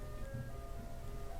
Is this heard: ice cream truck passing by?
yes